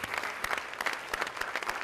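Brief, lukewarm clapping from a fundraising dinner crowd at a Robert F. Kennedy Children's Action Corps gala, scattered hand claps in a short, moderately quiet burst.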